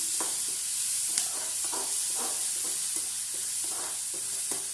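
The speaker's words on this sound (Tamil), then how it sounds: "இந்த வெங்காயம் நல்லா கோல்டன் ப்ரௌன் ஆகிற வரைக்கும் நல்லா தாளிக்கணும்" Steady sizzling of onions frying in a pan toward golden brown, with occasional stirring scrapes over a constant hiss, no voices.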